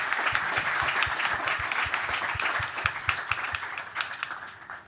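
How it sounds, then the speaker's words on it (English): A crowd at a G20 energy transition panel session applauds steadily with many hands clapping together, fairly close and sustained, gradually thinning toward the end. "I would like to invite for a big applause"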